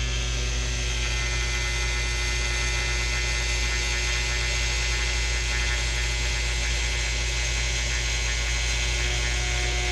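A homemade needle cutter machine runs through a full sheet with a constant, dense mechanical hum and buzz. The drone is steady, loud and close, with no voices.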